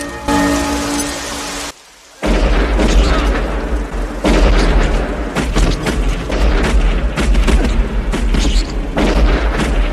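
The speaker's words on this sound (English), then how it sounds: "At that place, Luke and Scott shot each other" Gunfire and booming blasts from a war movie scene, loud and sustained with a brief silent gap, dense with rumbling explosions and shots.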